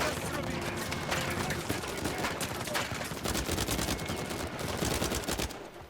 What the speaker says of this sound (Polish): Chwila, ostrzał. Jezus, jakaś wieżyczka.